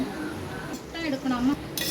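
Mashing and stirring chickpea masala in a pot with a utensil, scraping with a few soft clinks against the metal, under a quiet voice talking nearby.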